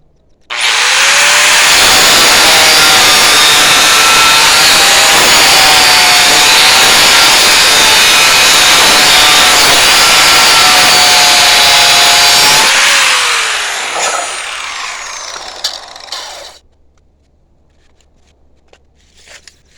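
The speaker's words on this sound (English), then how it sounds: "4-foot pieces of vertical rebar, and I'll just cut them off with the angle grinder." An angle grinder cuts through a 4-foot length of vertical steel rebar at a house addition footing wall, a loud, close, sustained high-pitched whine with a rising screech that winds down and fades after about fifteen seconds.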